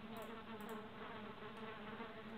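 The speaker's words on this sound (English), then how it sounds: "My bees are happy." Bees buzzing in the video game Valheim, a steady, close, droning hum with no break, fairly quiet and with no talking over it.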